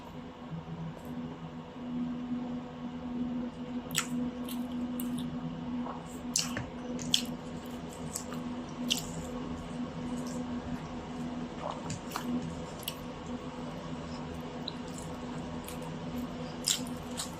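A hand mixes rice with fish curry, crushed papad and stir-fried beans, giving soft wet squishes and scattered small crackles in an uneven rhythm, fairly close and quiet over a faint steady hum.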